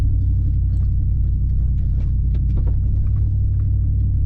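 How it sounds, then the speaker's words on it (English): A 2019 Ram Power Wagon truck on BFG KM3 tires crawling slowly over an off-road obstacle in two-wheel drive, a loud steady low engine rumble with faint creaks and bumps on top, no talking. "as long as you know how to throttle your vehicle correctly, especially with the power wagons, it just crawls right up"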